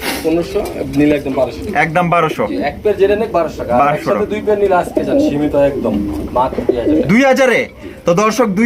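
Racer pigeons coo in a loft, soft throaty calls mixed in close beneath someone talking throughout, with an occasional flutter or rustle.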